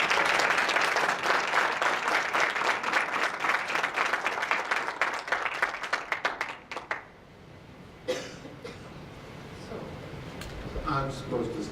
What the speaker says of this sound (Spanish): Les pido un aplauso para la señora.